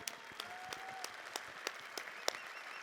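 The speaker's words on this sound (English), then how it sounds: "Let's clap it up for these creative individuals." A keynote audience at VeeCon 2022 applauds standing attendees, giving steady, fairly loud clapping with regular sharp accents throughout and no speech over it.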